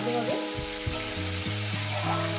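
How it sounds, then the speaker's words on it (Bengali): Cauliflower fries in oil in a pan with a loud, close, steady sizzle, accompanied by a faint tonal hum. "দেখো ফুলকপিটাকে এইভাবেই ভাজতে হবে।"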